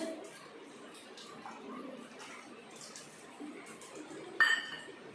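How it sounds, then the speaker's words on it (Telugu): A utensil stirs vermicelli and ghee in a pot, producing faint scraping with one brief, brighter metallic clink near the end. "ఇప్పుడు కలుపుకుంటున్నాను"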